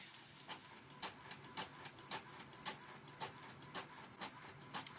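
An inkjet-style home printer running off pages of knots and hitches, with a steady mechanical hiss broken by regular sharp clicks and thumps about every half second as the paper feeds, close and alone.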